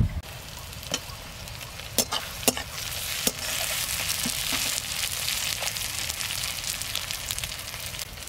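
Tomatoes added to fried onions for duck curry, a constant close sizzle broken by several sharp utensil clicks and stirring scrapes in the first few seconds.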